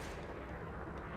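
Multi-cannon fire from a Cobra spaceship in the video game Elite Dangerous, a dense, loud, continuous rattle of rapid shots blending into a steady roar throughout the brief moment.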